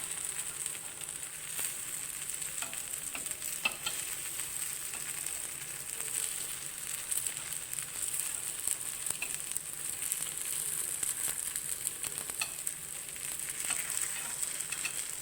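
Sweet paniyaram batter sizzles steadily in the round hollows of a paniyaram pan, a continuous close hissing fry with faint crackles and no talking.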